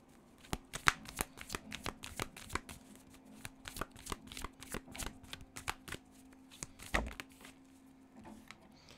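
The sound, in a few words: shuffling tarot cards to draw three more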